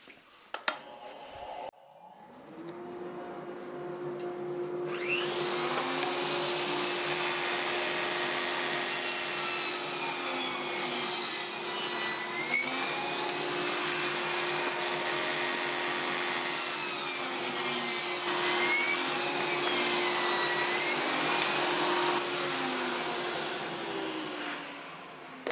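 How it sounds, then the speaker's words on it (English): A dust collector hums steadily while a power saw cuts wooden top bars for beehive brood frames, the blade's whine rising and falling with each pass over a constant drone. "Turn the dust collector on, put the headphones on."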